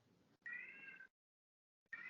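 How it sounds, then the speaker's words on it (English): A domestic cat lets out a loud, drawn-out meow, then falls silent before starting another, heard close and alone in an otherwise quiet room. "My cat's meowing very loud in the background."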